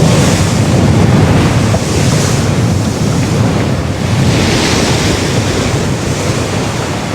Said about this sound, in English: The waves are about 40 foot, something like that.